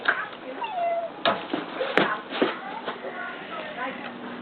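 A cousin's house cat meows several times, close and clear, with short cries spaced through the stretch and some background shuffling.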